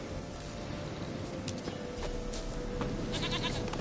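A goat bleats in The Witcher 3 video game, heard over dense, constant ambient noise with faint hoof clopping.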